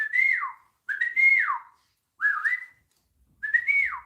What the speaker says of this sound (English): Give him a special whistle.